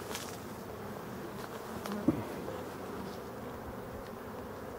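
Black honey bees buzz steadily around a hive beside flowering ivy in Brittany, a close, continuous hum that stays even from start to finish, with one faint knock partway through and no voices.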